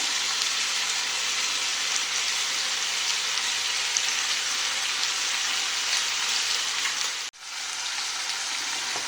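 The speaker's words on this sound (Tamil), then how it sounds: "அடுத்து நம்ம அரைச்சி வச்ச காஞ்ச மிளகாய், முந்திரி பருப்பு, தக்காளி பேஸ்ட்டை இதில் ஊற்றிடலாம்." Chicken masala gravy with ground dried chilli, cashew and tomato paste fries in hot oil, a dense, steady hiss of sizzling close by that briefly cuts out near the end, then resumes, with no talk.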